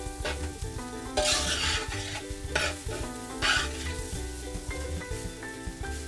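Rice with pepitoria is mixed in a sizzling pan, a constant frying hiss broken by a few louder surges as the spoon turns the rice, close and unaccompanied by talk.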